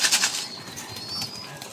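Pigeons restless in a loft before feeding, a close, busy bed of cooing and fluttering with bright chirpy calls, strongest at the start and continuing steadily with no talk.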